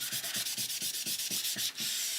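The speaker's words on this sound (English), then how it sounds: "I've got a clock in here and it's banging on the wall." A wall clock bangs against the wall in a steady, rhythmic knocking or rubbing about every quarter second, a dry scraping tap against a hard surface, with no voices.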